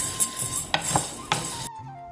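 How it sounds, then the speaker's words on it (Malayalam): Horse gram dry-roasting in a pressure cooker, with a few scraping and stirring clatters against the metal pot and a quiet hum underneath, close and moderately loud before stopping abruptly. "ഞാനിപ്പോൾ ഇത് കുക്കറിൽ തന്നെയാണ് വറുത്തെടുക്കുന്നത്."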